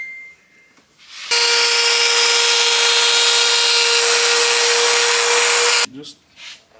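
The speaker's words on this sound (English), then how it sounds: "you gotta grind on a 513 gear to get the pin in" A power grinder cuts into the teeth of a 5.13 ring gear for a Crown Vic, a loud, steady high whine held for about four seconds, with quieter shop noise and brief talk before and after.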